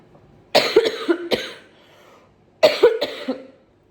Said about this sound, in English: Every time I cough